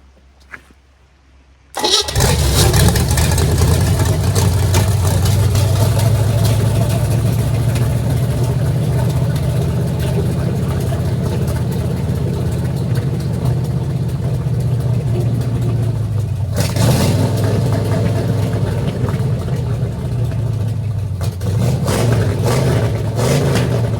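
A car engine catches after a brief silence and runs loud and close, idling with a rough steady rumble, then revs up, drops back briefly around the middle and picks up again.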